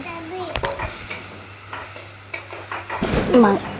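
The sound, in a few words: frying spice masala with onions in a pan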